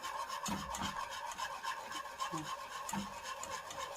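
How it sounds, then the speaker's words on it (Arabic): A spoon stirs a starch mixture with cocoa, sugar and milk in a bowl, giving soft repeated scraping and rubbing strokes at close range, no talking. "ونخلط كل الخليط في بعضه ونقلب"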